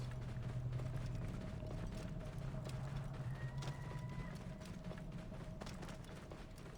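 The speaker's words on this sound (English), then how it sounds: "There look to be horses up there" Horses' hooves clip-clopping in the Assassin's Creed Origins video game, a steady run of hoofbeats set back in the mix under a constant low ambient rumble and faint mechanical clicks.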